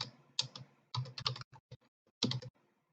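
Typing on a computer keyboard in uneven bursts of close, crisp key clicks separated by short silences, with no one speaking.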